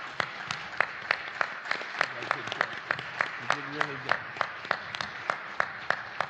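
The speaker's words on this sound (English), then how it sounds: "I would ask that the audience would now join me in a well-earned round of applause for the" Sparse, scattered clapping from a small audience at a school board candidate forum, individual claps standing out in an uneven rhythm, with a voice speaking briefly over it.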